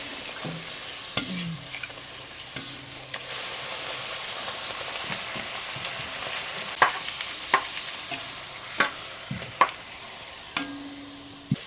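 Luchi, wheat-flour flatbread, deep-frying in hot oil with oil spooned over the top, a steady crackling sizzle throughout with occasional louder pops and spatters; no talking.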